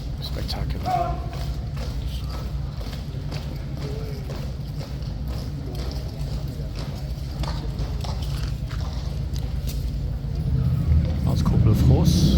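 Hooves of King's Guard horses clip-clop steadily on hard ground during a winter inspection, a continuous rhythmic clatter under crowd noise and voices, swelling louder toward the end.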